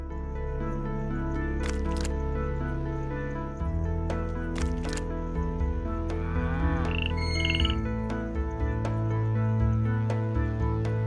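Frog croaking in the video game Milkmaid of the Milky Way, a few short chirpy calls heard over steady game music that runs throughout.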